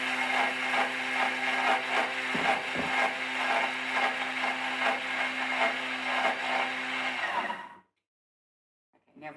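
A Thermomix whizzes sticky date pudding ingredients, a loud steady whirring blend with a few dips in pitch, running for several seconds before cutting out abruptly into silence.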